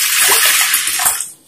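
Water is poured briefly and steadily into a pressure cooker over one cup of washed raw rice, a short splashing rush that tails off quickly.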